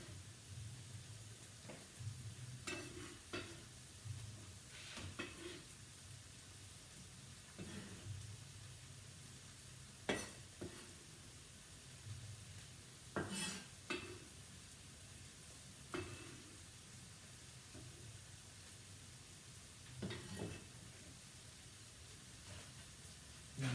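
Onions and peppers for empanadas cook quietly in a pan, a faint continuous sizzle broken by occasional sharp clicks and stirring knocks spread across the stretch.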